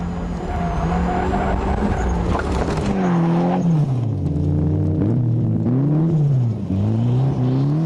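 A Mitsubishi Lancer rally car with a turbo-back exhaust is driven hard in pursuit of an Evo 6, its engine loud and close, revving up and down through rising and falling pitch sweeps with a heavy rumble and no talking.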